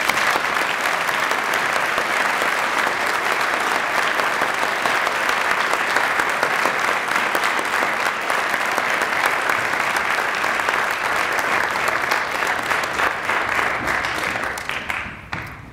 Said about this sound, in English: Let us give our third and second year law school initiates a round of applause.